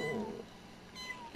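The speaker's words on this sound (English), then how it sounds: "Chunk is a skittish cat." A skittish cat named Chunk in The Sims 4 gives a short game meow over soft background music, with a brief higher cry near the end.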